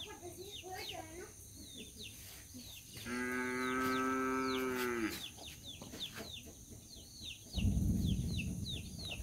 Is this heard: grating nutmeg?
no